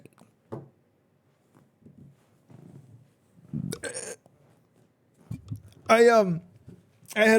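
A burp lets out around six seconds in, a loud, drawn-out guttural belch with a strongly pitched, rippling quality, followed by another short burst at the end. Softer mouth noises and brief murmurs come before it.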